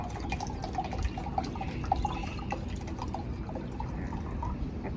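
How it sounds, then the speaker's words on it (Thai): Water poured into a drinking glass during a classroom science experiment, a steady close liquid splash and trickle with small drips, running continuously with no talk over it. "คุณครูน้ำเทใส่หมดเลยนะคะ"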